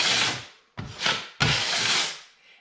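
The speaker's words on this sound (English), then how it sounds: "what we want to do is we just want to fill these grooves in the paneling" Drywall mud being spread with a tool into the grooves of wood paneling, heard as three close scraping, rubbing strokes that fade at the end of each pass.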